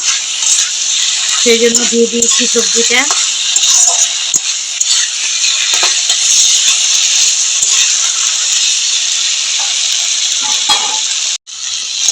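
Cauliflower and potato pieces tumble into a pan of fried spices, setting off a steady close sizzle and frying hiss with stirring and scraping, a voice briefly heard early on over the cooking.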